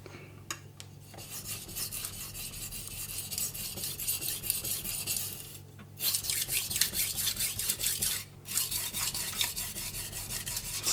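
A kitchen knife is rubbed back and forth on a 150 grit Omurato whetstone, a continuous gritty rasp with two brief pauses between strokes, close and fairly quiet.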